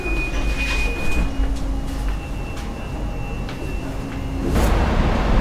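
A rumbling light rail train in Bergen, Norway hums along with a steady tone and a faint high whine, then swells louder near the end as it moves; no talking.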